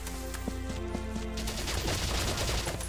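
A battle in the Valkyria Chronicles video game brings rapid bursts of gunfire that rattle in quick succession after a brief stretch of tonal background music.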